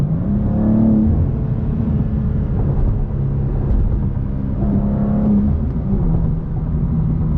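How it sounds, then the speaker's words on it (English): A 2025 BMW M2 with M Steptronic and twin-turbo engine drones steadily while driving, a dense low exhaust rumble with mild swells in revs, close and continuous with no talk. "I love the sound of the exhaust"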